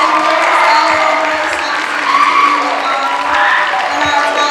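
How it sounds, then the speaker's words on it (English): Applause and scattered cheers for the singers at a university Hawaiʻi Club lūʻau, a steady crowd clapping at moderate loudness with murmuring voices and a faint sustained tone beneath. "Can we get another round of applause for our beautiful singers"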